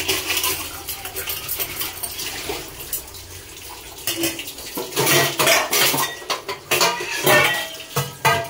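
Dishes, pots and pans being scrubbed and rinsed at a sink, with running water hissing throughout and frequent loud clattering and clinking of metal vessels up close, growing busier toward the end.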